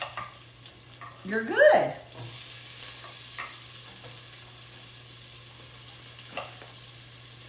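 Corn and pepper cooking in a pot for corn chowder, a few clattering stirs followed by a soft, steady sizzle, with a voice talking briefly near the start.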